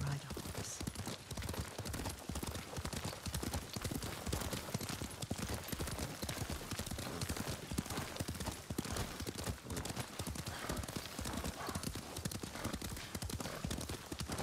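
Horse hooves gallop in the video game Ghost of Tsushima, a fast, steady clip-clop rhythm at close range, continuous throughout with faint background sounds.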